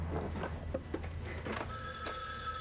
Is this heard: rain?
no